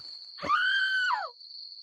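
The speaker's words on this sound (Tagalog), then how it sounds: "May babaeng sumisigaw." A woman lets out a single loud, sustained scream lasting under a second, heard alone over a thin, steady high-pitched tone.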